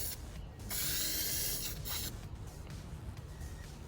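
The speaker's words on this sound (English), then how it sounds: "Silver always sprays so wet." Short bursts of silver spray paint hiss from an aerosol can as an engine part is coated, with two strong sprays close up over a low background rumble.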